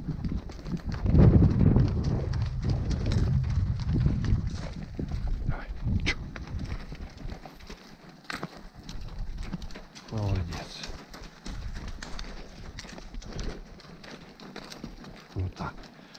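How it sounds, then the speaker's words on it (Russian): Horse hooves clip-clopping steadily on a long, tiring uphill climb, the animals sweating with effort, with occasional bird calls around and a person speaking over the plodding steps. "Очень затяжной подъем. Лошадям тяжело."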